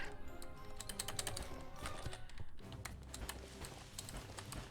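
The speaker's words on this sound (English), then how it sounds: "I'm going to spam my keys" Computer keys hammered in a fast, steady stream of clicky taps over faint game music, loud and close, no voices.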